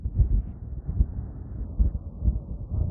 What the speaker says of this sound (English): It's getting windy and cold up here.